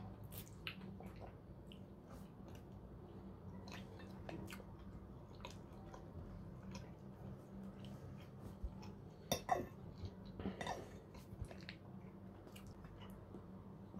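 Someone eats chopped mackerel and pink salmon pâté with peppers and spices up close, with soft wet squishing and chewing, a few clicks of cutlery and small smacks scattered over a quiet background.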